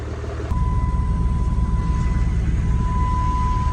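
A Cummins-powered truck with a faulty transmission and broken tachometer starts rolling down a driveway: a loud, close diesel rumble comes in abruptly and holds steady, with a thin high whine running over it.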